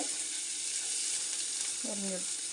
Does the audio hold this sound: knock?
no